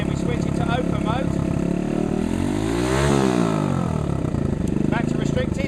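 A Monkey pit bike engine with a 5-pin adjustable CDI revs hard in open mode, a loud, close buzzing whine that climbs steeply, peaks and falls back, then settles into a sputtering idle-level rumble.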